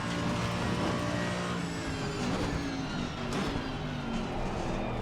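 A GT race car engine roars and drones continuously in Assetto Corsa Competizione on the Nordschleife, with a rising pitch under acceleration and a fairly loud, close tone throughout.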